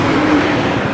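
A car passing by on a road, a steady broadband engine and tyre rush filling the whole moment at close range with no talk over it.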